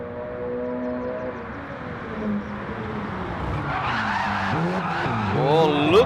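Racing video game car sliding sideways in a drift during pre-season testing, engine droning steadily with rising tire squeal that swells toward the end, no talk over it.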